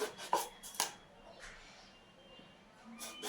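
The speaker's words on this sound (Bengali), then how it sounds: "দুটো বেগুনই এরকম গোল গোল করে কেটে নিচ্ছি" A knife cuts eggplant into round slices for a curd-eggplant dish, giving a few sharp chopping taps near the start and another cluster near the end, with quiet kitchen handling between them.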